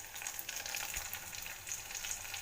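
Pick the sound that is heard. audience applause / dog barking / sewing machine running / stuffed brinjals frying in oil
stuffed brinjals frying in oil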